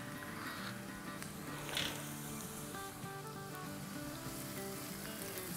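Finely chopped hot green chillies sauté in a pan with a soft, continuous crackling sizzle, faint and steady throughout, with no voices.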